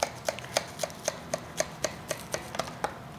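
A knife crunches through the crisp, golden crust of a homemade chicken pot pie in a steady series of about a dozen sharp, close crackles, evenly spaced and loud against a quiet room.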